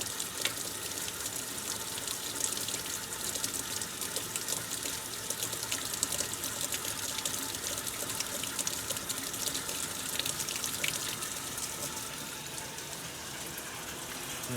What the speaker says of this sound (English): It's going to take a while with the reduced water pressure for these to fill.